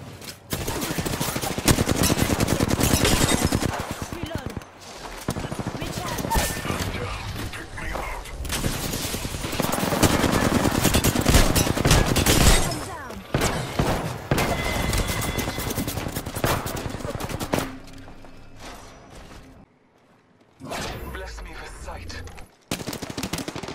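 Sustained automatic gunfire rattles through an Apex Legends Arenas firefight, loud dense bursts with brief gaps and a quieter lull near the end, while a character voice speaks over parts of the action.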